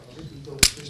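A single sharp pistol shot, loud and brief, bursting out of a quiet room tone with no talk around it.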